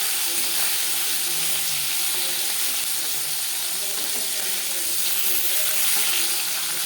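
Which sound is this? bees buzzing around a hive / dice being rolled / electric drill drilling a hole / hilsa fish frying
hilsa fish frying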